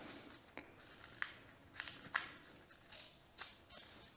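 Athletic tape being snipped with scissors, several short crisp cuts spaced irregularly and fairly faint, with no talking.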